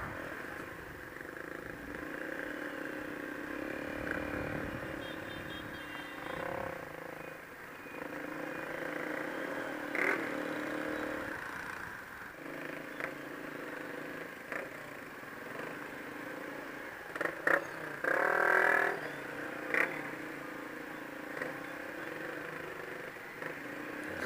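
Motorbike ride through city traffic in Hue, Vietnam, with a steady mid-pitched engine drone and passing vehicle noise continuing throughout, plus occasional brief louder bursts from nearby traffic.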